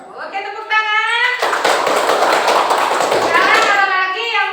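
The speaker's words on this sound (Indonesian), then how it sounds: "Oke, tepuk tangan." A class of children claps hands together for about three seconds in a dense burst of fast, overlapping claps, with a voice and speech heard just before and after.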